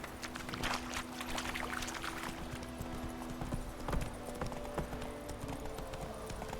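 Horse hooves clip-clop in a steady, fairly quiet rhythm in a video game, over a faint ambient background.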